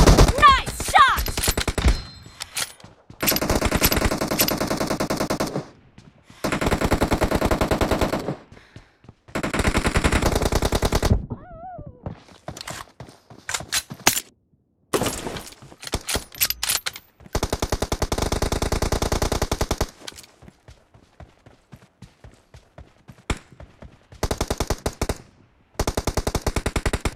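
Bursts of automatic gunfire in the mobile battle royale game PUBG Mobile, with long rapid strings of shots split by short silent gaps and scattered single shots, loud and close.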